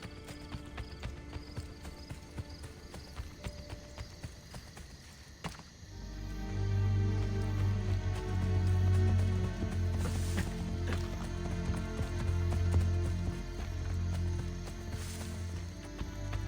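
Horse hooves clatter in Assassin's Creed: Brotherhood (2010), a quiet stretch giving way around the middle to loud, continuous galloping with a rumbling low drone, no talk heard.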